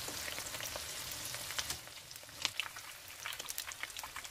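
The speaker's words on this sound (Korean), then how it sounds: "돈가스와 새우를 튀길게요." Breaded pork cutlet and shrimp deep frying in hot cooking oil in a pan, a soft steady sizzle with scattered crackling pops, faint and close, with no voices.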